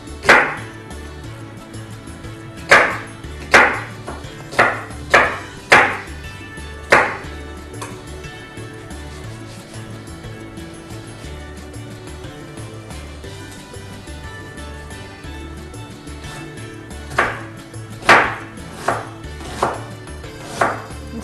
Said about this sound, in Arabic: هنفرم البصل ناعم